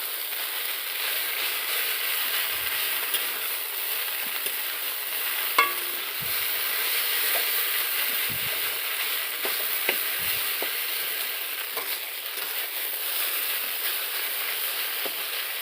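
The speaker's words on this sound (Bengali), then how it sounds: "দেখো ম্যাগিটা পরে ভাজা ভাজা হয়ে গেছে।" Maggi noodles frying in a pan while being stirred, a continuous close sizzle with scattered soft scraping knocks throughout.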